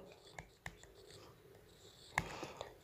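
Pen or pencil scratching out a math solution on paper, a quiet, soft scraping texture with a few light taps, close and faint, with no talking.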